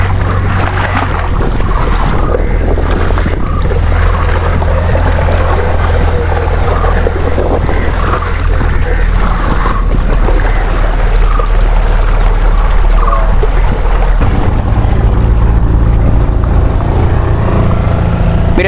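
Riverboat ride on the Alleppey backwaters in Kerala: a steady, loud low engine drone with continuous water wash and wind buffeting the microphone, unbroken for the whole stretch with no talking.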